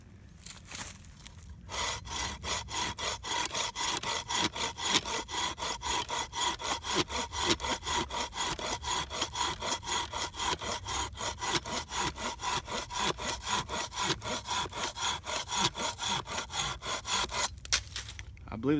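A Kobalt folding hand saw cuts through wood in a long run of rapid, even back-and-forth strokes, each rasping pull loud and close, stopping near the end.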